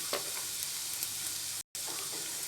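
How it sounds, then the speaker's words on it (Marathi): Garlic sizzling in hot oil in a pan for a vegetable soup, a steady close hiss with faint scraping and a brief dropout near the end; no one talks. "आणि तेल चांगलं गरम झाल्यावर मी ते लसूण घालून घेणार आहे"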